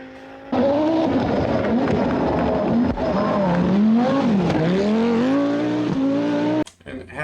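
An Audi Quattro S2 rally car on a track, its loud engine revving and shifting pitch through accelerations and lifts before cutting off abruptly near the end, with someone speaking over it.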